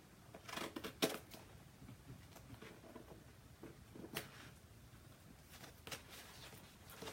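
Scissors cutting vinyl sheet for labels, a few faint, brief snips and crinkles spread over a quiet room, with soft handling rustle in between.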